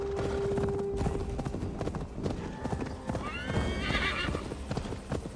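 Galloping hoofbeats of a horse in the video game Assassin's Creed Valhalla, steady clip-clop throughout with a loud neigh and whinny rising near the end, alongside in-game ambience.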